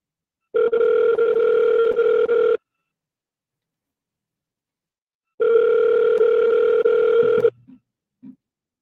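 Two long unanswered telephone ringback tones on an outbound call, each lasting about two seconds with a gap of silence between, followed by a brief faint click as the line cuts away.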